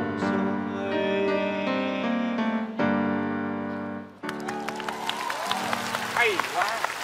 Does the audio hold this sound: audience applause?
yes